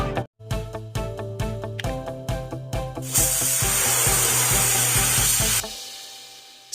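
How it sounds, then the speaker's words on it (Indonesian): Video game sanding of a damaged police car body, a rapid series of short rhythmic rasping strokes with a tonal hum, then a long steady hiss before it stops abruptly, no voices. "Sekarang amplas tempat yang rusak dengan alat amplas"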